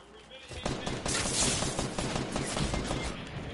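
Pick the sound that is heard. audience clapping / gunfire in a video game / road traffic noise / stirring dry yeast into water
gunfire in a video game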